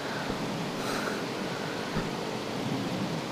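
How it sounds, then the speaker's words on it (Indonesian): Heavy rain pours outdoors during an air rifle shooting session, a dense, loud, steady hiss of downpour filling the whole clip with a couple of dull low thumps. "hujan sedang deras banget"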